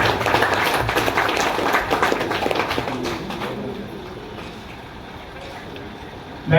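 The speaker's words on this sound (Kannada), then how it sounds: "ಈಗ ಗಿರೀಶ್ ಅವರಿಗೆ ಒಂದು ಜೋರಾದ ಚಪ್ಪಾಳೆ ಬರಲಿ ದಯವಿಟ್ಟು." An audience applauds for Girish with a dense, loud clatter of clapping that thins and fades over several seconds.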